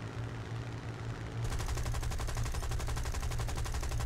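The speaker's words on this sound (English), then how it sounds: "God, I'm getting shot at." Rapid automatic gunfire in the War Thunder video game rattles in a fast, continuous stream of shots, starting a little over a second in and holding at an even loudness to the end.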